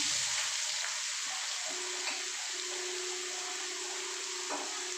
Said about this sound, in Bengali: এবার আমি এর মধ্যে সয়াবিনগুলোকে একটু নেড়ে নেব